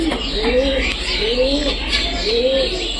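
Pigeons or doves coo in repeated soft rising calls around a nest in sunny weather, a steady rhythm of three phrases over low background hum.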